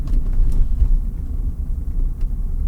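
A Rolls-Royce drives over a lumpy road, giving a low, steady cabin rumble with soft thumps from the uneven surface, heard close from inside the car without talk.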